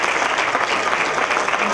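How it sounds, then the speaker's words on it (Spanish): Audience applause for Maruja de Casa Fortes at a community gathering in Cans, a steady, close wash of many hands clapping with no gaps from start to finish. "pido un aplauso para Maruja de Casa Fortes"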